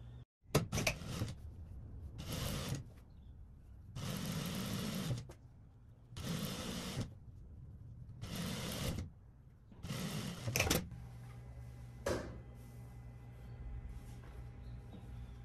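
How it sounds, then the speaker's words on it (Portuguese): A sewing machine topstitches a seam on a romantic-style dress in five loud, rapid runs of stitching separated by short pauses, then settles into a quieter, steady hum with a faint click. "Eu vou rebater aqui, ó, a costura aqui em cima."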